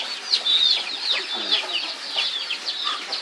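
Several chickens cluck and squawk in a busy, overlapping chorus while competing with a cat over food, sounding close and lively throughout.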